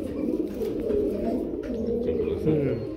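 Two pigeons coo in low, rolling murmurs, soft and close, while people talk over them nearly the whole time.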